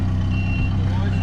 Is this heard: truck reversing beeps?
yes